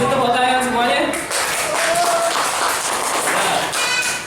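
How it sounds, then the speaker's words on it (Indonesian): Children in an Islamic lesson about Surah Al-Ma'un burst into a loud round of clapping that runs steadily for several seconds, mixed with voices and chatter from the group. "Nah, kasih tepuk tangan semuanya."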